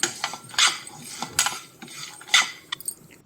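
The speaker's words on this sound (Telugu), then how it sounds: "కొన్ని ధనియాలని అలాగే నువ్వులను యాడ్ చేసుకొని రోస్ట్ చేసుకోవాలి" Coconut pieces, coriander seeds and sesame seeds dry roasting in a pan, with a utensil scraping and clinking against the metal in several short, fairly close bursts and a faint sizzle between them.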